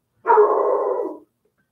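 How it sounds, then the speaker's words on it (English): A dog gives a single loud, close bark that stretches into a drawn-out, slightly whining yelp lasting about a second, alone against silence. "Excuse me, that was my dog."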